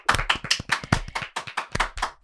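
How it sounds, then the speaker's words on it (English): A single person's hand clapping, a rapid run of sharp claps with irregular spacing, close and loud, alone with no other sound. "This guy's clapping."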